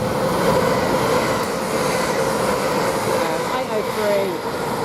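A Lumo Class 803 passenger train from London King's Cross to Glasgow passes through Peterborough station with a steady loud rolling rumble and wheel noise throughout, and a voice talks over it.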